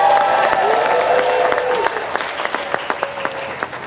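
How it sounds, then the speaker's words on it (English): A festival crowd at an outdoor circus and Morris dancing show applauds and cheers loudly for a named participant, with sustained clapping and voices, then scattered claps as the noise eases. "Can everyone cheer Ella?"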